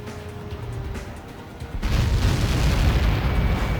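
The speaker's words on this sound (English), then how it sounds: "How many got caught in that explosion?" A Helios projectile strikes in the video game Ace Combat 7 and sets off a sudden deep explosion, which settles into a loud sustained roaring rumble after a quieter lead-in.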